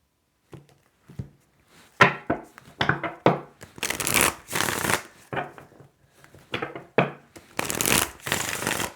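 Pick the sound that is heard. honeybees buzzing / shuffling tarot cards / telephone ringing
shuffling tarot cards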